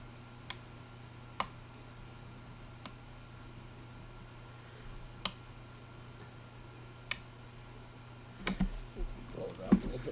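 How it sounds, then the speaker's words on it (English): A Sears Super Video Arcade joystick clicks as it is moved, a handful of isolated sharp ticks spaced a second or two apart over a quiet hum, with a few quicker handling clicks near the end. "One click."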